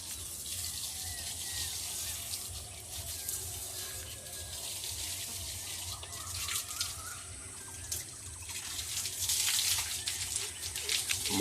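Water is poured and splashed while an animal is washed at a rural village home in Bengal, a continuous gushing and dripping nearby with faint background sounds.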